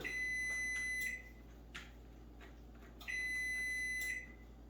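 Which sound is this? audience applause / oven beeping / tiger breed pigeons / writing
oven beeping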